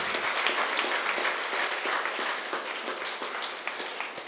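A seated audience at a pyramid meditation festival gathering claps steadily, a dense, even wash of applause that holds for several seconds without voices.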